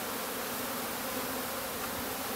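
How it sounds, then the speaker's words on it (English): Honeybees swarm and buzz around a freshly installed hive, still sticky with sugar water, a steady close drone of many wings filling the air with no talking. "there are already bees that are sort of around the queen"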